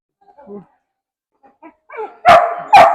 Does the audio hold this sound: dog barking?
yes